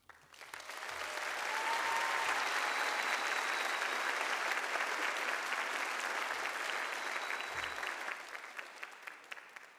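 Audience applause at the College of Health Sciences commencement ceremony: a large crowd claps, quickly swelling to a full, sustained roar before gradually thinning out toward the end.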